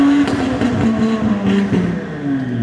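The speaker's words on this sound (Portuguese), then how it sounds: "Esse ronco dele ficou animal, né?" A newly bought car's engine roars through its exhaust close by, with a deep, rumbling tone that rises and falls slightly as it revs, loud and steady for under three seconds.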